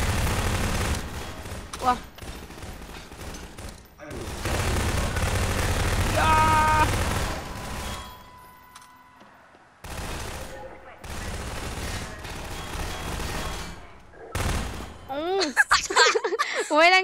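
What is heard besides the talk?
gunfire in video game Garry's Mod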